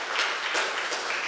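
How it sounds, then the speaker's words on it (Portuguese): A church congregation claps for Jesus in a short, dense burst of applause that holds steady and sounds full and close throughout. "Dá uma salva de palmas aí para Jesus."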